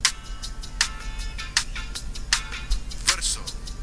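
Rapid, evenly spaced clicks from a click track leaking out of an in-ear monitor hanging from a singer's shoulder into the vocal mic, a faint steady tick over low background hum.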